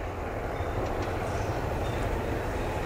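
Train rumbling through Yommarat railway halt in Bangkok, a loud, steady roar of wheels on rails with faint clicks and squeals above it.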